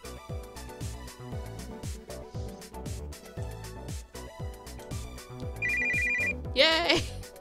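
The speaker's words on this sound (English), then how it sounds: "Oh, my cell phone!" A cell phone ringtone chirps briefly in a video game, a steady electronic tone cutting through busy game music and sound effects, followed by a louder burst.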